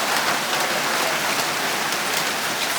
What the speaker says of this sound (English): Bloody raining.